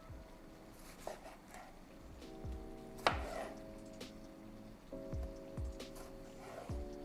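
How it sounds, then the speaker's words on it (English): Knife cutting tomatoes into quarters on a board beside a fish head curry: a series of quiet, irregular chops and taps, with a sharper knock near the middle, under faint kitchen background. "I'm just gonna cut my vegetables. So I've got some tomatoes here. Just gonna cut them into 4."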